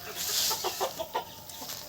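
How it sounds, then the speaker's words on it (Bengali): A few short clucks from native village chickens close by on a farm, over a soft hiss of background noise. "এই যে দেশি মুরগিগুলো দেখতে পাচ্ছেন"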